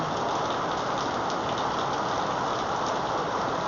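Heavy typhoon rain pours steadily and loudly, a dense continuous hiss of drops striking surfaces with no voices over it.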